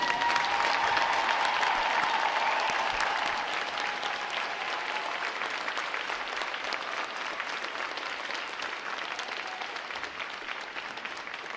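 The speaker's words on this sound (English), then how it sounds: "please join me in a round of applause for our veterans" A large audience at a U.S. Navy boot camp graduation gives sustained applause for standing veterans, a broad, even roar of clapping heard from within the crowd, strongest at the start then holding steady.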